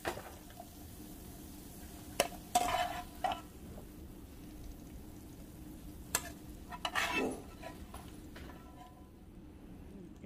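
Chopped onion sautés quietly in a frying pan with a faint, steady sizzle, broken by a few short clinks and scrapes of stirring.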